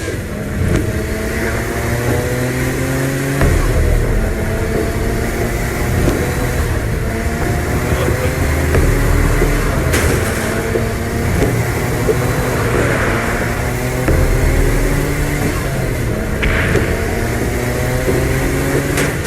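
Car engine in Saints Row steadily droning and shifting through gears while driving, continuous mid-level motor hum with rising revs, loud and close throughout.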